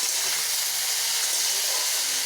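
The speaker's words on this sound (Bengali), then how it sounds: "এই যে ভাজা ভাজা করছি, পটল আলু বরবটিগুলো ভালো করে ভাজা ভাজা করে নেব" Pointed gourd, potato and long beans frying in hot oil in a pan give a steady, close sizzle and hiss that runs unbroken for the whole stretch, with no talk over it.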